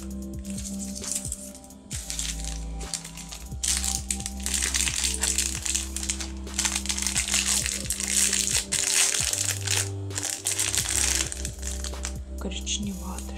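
A small plastic bag crinkles and crackles up close in repeated bursts over a steady background hum, with a voice speaking now and then.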